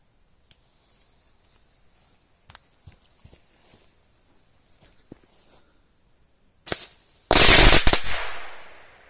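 A Bomber Guy Triplex firecracker battery set off outdoors: a few faint pops and clicks, then a loud burst of rapid crackling blasts near the end that fades quickly, no talk.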